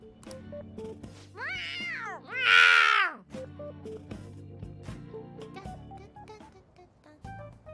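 A cat meows twice in Persona 5 Royal, with a rising-and-falling first call and a louder, longer second one, close and clear over quiet game music.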